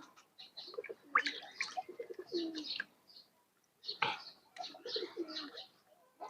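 Pigeons coo in a loft in short bursts and phrases, with a pause in the middle, fairly close and soft, with no talk.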